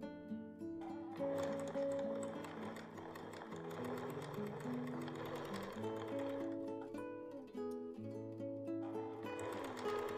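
A sewing machine stitches double gauze fabric at a napkin's mitered corner, running in steady bursts with brief pauses and a continuous mechanical hum close by.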